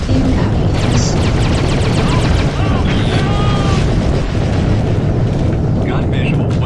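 Missiles explode in space combat in the 2003 game Freelancer, dense, loud blasts and rumbling roars that pile up continuously, with voices speaking over the din.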